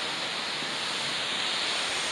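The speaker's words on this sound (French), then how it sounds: "Extraordinaire, extraordinaire cascade, une des plus belles du secteur quoi." A waterfall cascade on a stream tumbles in a steady, close, full-bodied roar, a dense unbroken wash of falling water with no voices.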